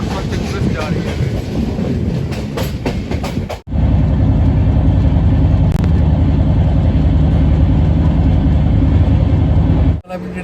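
A Gorakhpur–Pune express train passes close alongside with a loud, continuous rumble and rattling wheels. The roar holds steady and briefly drops out twice.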